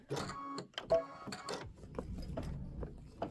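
A home embroidery machine stitches a linen applique for a quilt block, giving a soft, steady mechanical whir and rapid needle tapping with occasional clicks, fairly quiet and close.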